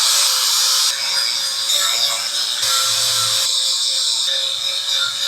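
A handheld power tool whines steadily at high pitch while cleaning up a metal mating surface during fabrication of a steel ramp gate for a landscape trailer, loud and close, with slight changes in pitch as pressure shifts.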